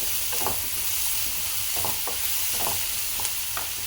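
Tomatoes sizzle in a frying pan with a continuous hiss, broken by several soft scraping knocks as a utensil stirs them, close and alone without talk.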